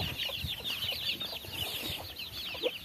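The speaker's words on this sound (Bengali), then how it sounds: "এই যে দেখেন মুরগির বাচ্চা" A hen with her chicks clucks softly and repeatedly, a faint chatter of high peeping chirps running continuously over low farmyard background noise.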